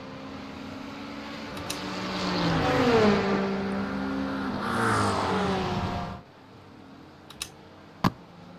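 In the iRacing game at Road America, an IMSA endurance race car engine rises and shifts pitch as a faster car closes and passes, then cuts off, followed by a few sharp keyboard clicks.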